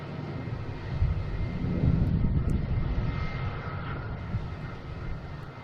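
JetBlue airliner taxiing in the alley at Boston Logan airport, a steady low rumbling engine roar at moderate distance, broad and continuous, peaking around the middle before easing slightly.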